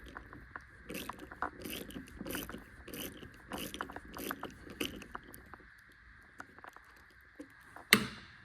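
Ratchet wrench backing out the roof rack bolts on a Toyota 4Runner TRD, quick repeated clicking bursts up close, pausing between strokes, ending with a sharp clack.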